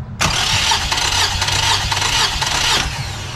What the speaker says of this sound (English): I'm gonna hold the throttle open and give it a crank.